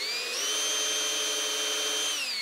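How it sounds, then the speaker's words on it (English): A power drill spins a small bit through a pilot hole in a 1976 Starcraft MerCruiser 120 hp boat engine, a steady high-pitched whine that holds constant throughout, rising briefly in pitch and dropping again near the end, close and loud with no talking. "letting the drill work. When it breaks through, I don't want it to break my drill bit off."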